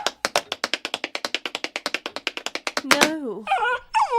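A dog tap dancing as a comic sound effect: about two dozen quick, evenly spaced taps clatter in a brisk rhythm, then give way to a few high dog whimpers and yips.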